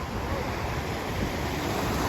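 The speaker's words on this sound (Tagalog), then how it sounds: "Malakas yung ulan." Heavy rain pours down near a flooded area in a steady, loud, unbroken hiss that fills the whole clip, with no talking.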